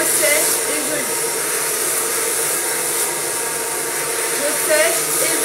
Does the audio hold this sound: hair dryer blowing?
yes